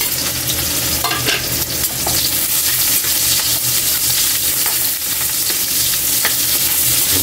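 Ginger, garlic and onion sautéing in a pan produce a loud, dense continuous sizzle with occasional stirring clatter, close and steady throughout, with no talking.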